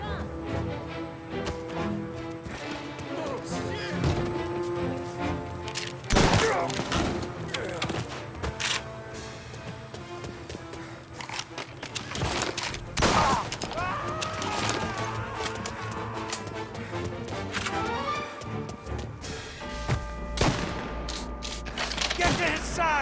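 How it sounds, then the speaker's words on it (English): Gunfire in the video game Mafia: Definitive Edition: scattered sharp shots and bursts ring out over a busy bed of music and game sound, with voices and brief horse-like noises mixed in. "Someone's firing a gun."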